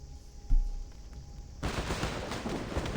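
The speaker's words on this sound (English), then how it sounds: "The sound of gunfire echoes from outside the courtyard" In the video game Reverse: 1999, a single dull thump is followed by a sudden burst of rapid gunfire, a dense, noisy rattle of shots continuing to the end.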